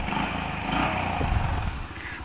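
A Honda CB350 motorcycle on a midday ride in Hyderabad, its engine a steady low thump with a brief rise in revs, moderately loud and heard alone.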